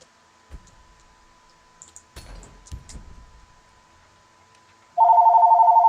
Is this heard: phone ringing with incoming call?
yes